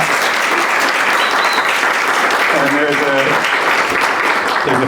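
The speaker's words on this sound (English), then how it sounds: "let's actually just clap there" An audience applauds at an awards ceremony, a loud, dense wash of clapping that lasts throughout, with a brief whoop or voice rising from the crowd partway through.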